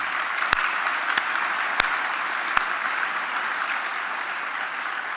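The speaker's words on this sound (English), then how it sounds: "May I have a big applause for Joost." An academic-year opening audience applauds architect Joost Ector with steady, even applause throughout and a few sharper nearby claps standing out.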